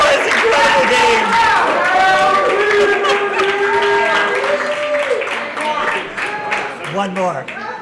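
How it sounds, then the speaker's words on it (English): Crowd at an Echo Arena esports event, Echo North 2022 live in Toronto, claps and shouts in a dense, steady wash of noise under a loud, excited commentator's voice throughout. "you hear the clapping, you hear the shouting"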